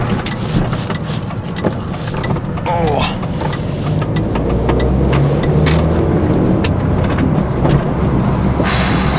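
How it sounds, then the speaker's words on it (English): An old Mini Cooper drives along with a steady engine and road rumble, while loose rattling and knocking from the rear of the car come through continuously. A voice speaks now and then over the noise. "Quite a lot of rattling from the back."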